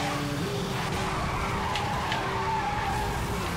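A car in Need For Speed Hot Pursuit speeds along a wet road at about 160 miles an hour, its engine roaring loudly and continuously with tyres hissing and skidding.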